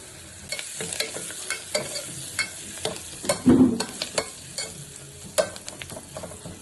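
Chicken gizzards with turmeric cook in a pan, giving a steady low sizzle broken by repeated scraping stirs and clacks of a spoon, with one louder thump midway; no one speaks.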